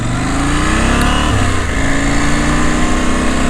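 A KTM 790 Adventure motorcycle engine on an Isle of Man mountain road, loud and close, revving up and shifting through gears with a continuous rising and falling drone.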